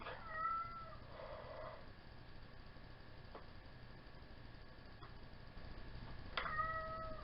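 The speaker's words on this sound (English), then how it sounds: "That's my cat." A pet house cat meows twice, once near the start and again near the end, each call short and drawn out indoors, with quiet ticking and faint room noise between.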